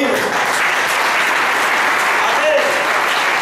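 A church congregation gives sustained, dense applause that stays close and loud from start to finish, with voices faintly mixed into the clapping.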